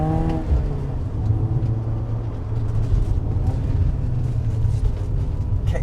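BMW E30 318iS engine pulling hard in second gear up a hill, a steady loud drone rising in pitch under acceleration with road and wind noise throughout.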